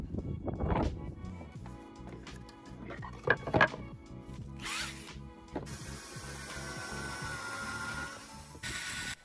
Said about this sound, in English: I drilled pilot holes on the other side to make sure that the wood wouldn't split